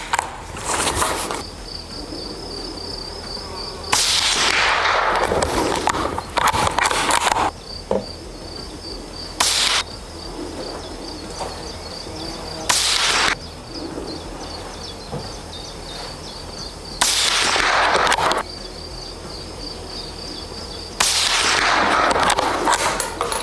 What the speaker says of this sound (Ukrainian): І так, п'ять пострілів.